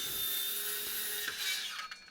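Steady high-pitched grinding and rasping of a power tool preparing wood for a backyard deck foundation, continuous and fairly close, tapering off near the end.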